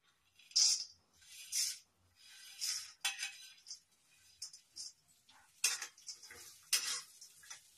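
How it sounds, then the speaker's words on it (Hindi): Pistachios, melon seeds and finely chopped dates dry-roasting in a pan, a spoon stirring and scraping with repeated metallic clinks and rattles in short bursts, close by. "अब इसी में और भूंजूंगी। ये पिस्ता है, ये खरबूजा का बीज है, ये दोनों मैं डालूंगी।"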